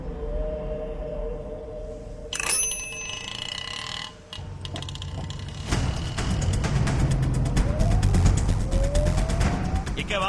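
An auto rickshaw engine in a busy city street, idling and then revving as it pulls away, with passing horns and traffic noise around it.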